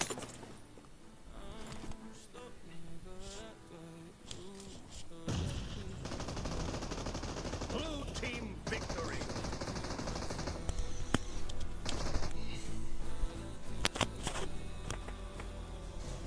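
Gunfire in a mobile shooter game plays quietly on a phone: rapid automatic bursts and single shots crackle over a constant game soundtrack, with no talking.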